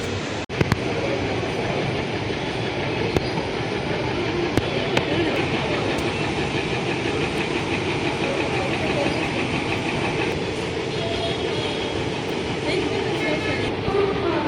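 A train passes through Digha railway station in Thane, a steady loud rumble and roar of rail cars with occasional sharp clicks and clatter throughout, close by.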